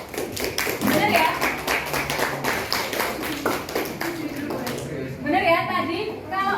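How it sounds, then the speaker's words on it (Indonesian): Students in a junior high classroom clap for a classmate, a quick patter of hands rising under a teacher's ongoing talk, then fading into murmurs. "tepuk tangan dulu buat temannya"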